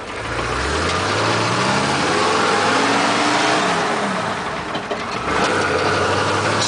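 A K30 truck with a 6.2 liter diesel and a five-speed NV4500 gearbox drives along a town road, its engine droning steadily and climbing in pitch through the gears, with a brief dip between shifts.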